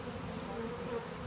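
Dense, steady buzzing of honey bees at an open beehive during an inspection, a continuous close drone with no talk.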